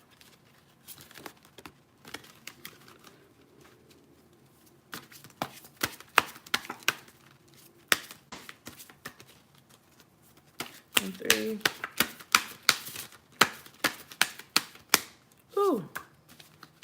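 Oracle cards from an animal deck being shuffled by hand, bursts of crisp riffling clicks and flutters in uneven runs, close by, with someone speaking briefly.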